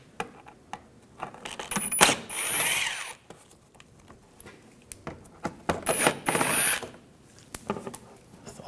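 Ratchet wrench with a T25 socket backing screws out of an undercar panel on a 2010-2014 Volkswagen GTI, heard as bursts of clicking ratchet strokes with metallic rattles between quieter pauses, fairly close.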